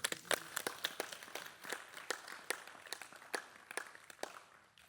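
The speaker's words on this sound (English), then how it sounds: "You can also applaud that." Audience at a Bhaktifest talk in Sydney, Australia applauds with scattered, uneven claps that rise and thin out over several seconds, moderately distant and without voices.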